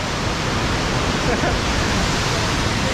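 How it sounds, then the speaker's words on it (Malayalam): A waterfall in Idukki pours down in the rain as a dense, even hiss of rushing water that stays loud and unbroken from start to finish, with no clear voices over it. "എന്ത് രസമുള്ള വെള്ളച്ചാട്ടം അറിയോ"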